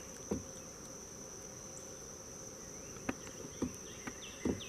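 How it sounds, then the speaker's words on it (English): Thousands of bees working the trees beside a clear river in a state park, a faint, steady high buzz drifting from a distance with a few soft knocks and rustles nearby. "Man, I can hear bees by the thousands."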